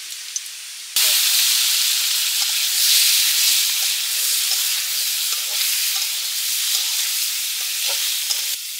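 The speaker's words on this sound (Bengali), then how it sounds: "আলুটা একটু ভেজে নিই" Potatoes frying in hot oil start with a sudden burst of loud sizzling that continues as a dense, even hiss, with faint stirring and clinks underneath.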